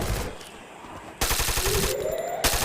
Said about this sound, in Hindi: जहाँ पर मुझे एक बंदा दिखता है जो मुझे पे फायर करता है।